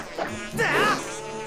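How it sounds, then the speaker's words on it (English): Bees buzzing in Zelda Skyward Sword, a close insect drone that rises and swells into a louder buzzing pass midway, with no talk. "Damn bees."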